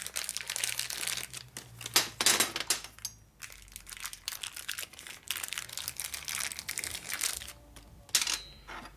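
Crunchy, crackling cuts through plastic pieces with a dulling blade during a 1961 Harley-Davidson Sportster XLCH transmission and motor rebuild, coming in irregular bursts with short pauses between them, close and fairly quiet.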